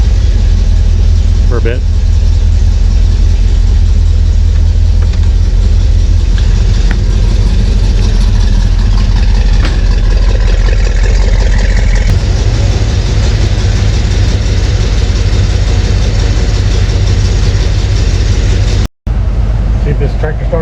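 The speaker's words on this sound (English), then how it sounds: "Oh, there she goes. It took a second, but she fired up." The generator on a 2005 American Eagle RV runs at a steady idle, a loud, close, continuous engine drone with someone talking over it and a short dropout near the end.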